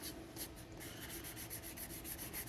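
Light, rapid back-and-forth rubbing of 1000-grit sandpaper on a 1964 Chevrolet Impala model car, a soft steady rasping in quick even strokes, close up with no talking.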